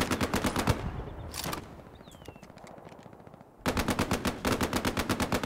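Automatic machine gun fire in the WWII shooter Hell Let Loose, long rapid bursts close and loud, broken by a quieter stretch of distant battle noise before the rattling volleys resume.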